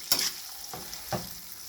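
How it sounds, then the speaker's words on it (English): Roselle leaves sauté in oil for a pickle, a steady close sizzle broken by three soft stirring scrapes, with no talking. "Keep sauteing it till the leaves are nicely cooked and all the moisture is removed."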